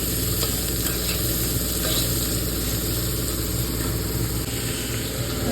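Ghugni being sautéed in a kadai gives a loud, unbroken hiss of frying with stirring, set against a constant droning hum from nearby, and no voices are heard.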